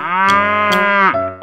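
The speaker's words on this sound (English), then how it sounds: "Cow." A cow gives one long, drawn-out moo lasting about a second, loud and close, with a brief lower grunt after it and a short sound at the very end.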